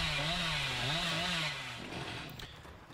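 A sustained, buzzing chainsaw-like sawing sound in a video game runs loud and steady, with its pitch wavering, then fades and drops away partway through.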